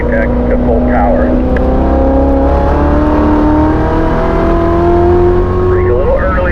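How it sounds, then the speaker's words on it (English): A race car on the Spring Mountain Motorsports circuit powers out of a corner, its engine droning loud and close as the pitch climbs steadily toward full throttle, with wind and cabin noise around it. "you can start to ease into the throttle little by little through the apex to full power"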